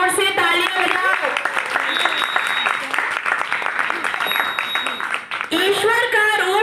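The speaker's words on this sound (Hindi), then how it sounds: "सभी जोर से तालियां बजाओ।" A crowd applauds loudly for a guest speaker, an advocate, at a ceremony, with sustained, busy clapping that briefly dips near the end while a voice speaks over the start and close.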